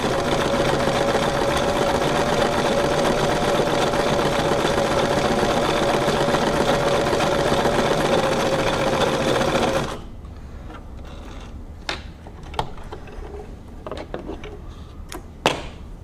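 Brother VX757 sewing machine running a blind stitch: a fast, even mechanical whir for about ten seconds, then it stops, leaving quiet with a few sharp clicks and knocks.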